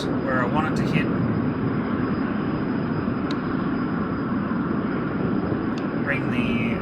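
Aircraft engines roar steadily as they throttle up for takeoff, a loud, broad rumble heard from inside with faint voices under the noise.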